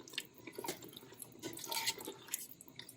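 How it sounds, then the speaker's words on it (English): Liquid is poured into a pot of simmering Kenyan red kidney beans, a faint, gentle trickling and splashing that continues for a few seconds, quiet and close, with no talk. "I think I'm going to add just a little bit more liquid"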